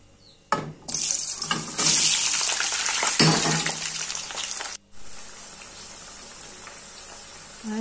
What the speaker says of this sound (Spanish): echamos aceite de oliva y vamos a echar sal a las patatas y las vamos a ir friendo